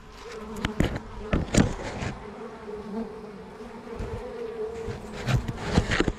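Honey bees packed in a quart container buzz steadily and densely, with occasional knocks and thumps from the container cutting through the drone.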